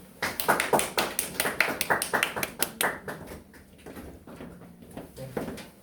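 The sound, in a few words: audience applause welcoming a speaker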